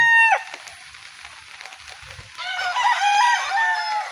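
Farm chickens cluck while a rooster crows, a short call at the start and then a longer, louder crow with harmonic warbling near the end, fairly close over quiet background.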